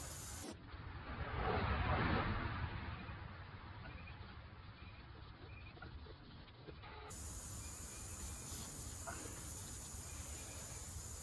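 Air hisses steadily out of a car tire valve as it is let down for a plug repair, a continuous close broadband rush that swells early and then holds at a lower, even level.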